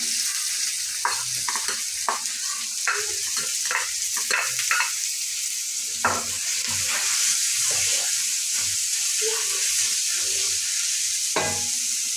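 Mustard seeds and chopped onion frying in a pan for a Sri Lankan-style sandwich filling, a soft steady sizzle with scattered pops, clicks and stirring scrapes, close and moderately quiet, no voices.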